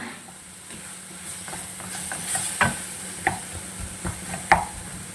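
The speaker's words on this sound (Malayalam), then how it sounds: "സവാള ഒന്ന് വഴണ്ട് വരുമ്പോഴേക്കും അതിലേക്ക് കുറച്ച് തക്കാളി ചേർത്ത് കൊടുക്കുന്നുണ്ട് എന്നിട്ട് ഇതും കൂടി ചേർത്ത് നന്നായിട്ടൊന്ന് മിക്സ് ചെയ്തെടുക്കുന്നുണ്ട്" Onion, tomato and potato sauté in a pan, a soft steady sizzle broken by several sharp scrapes and clatters of a spoon stirring against the pan, growing busier toward the end.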